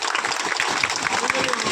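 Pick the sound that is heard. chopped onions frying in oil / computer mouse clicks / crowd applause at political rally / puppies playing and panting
crowd applause at political rally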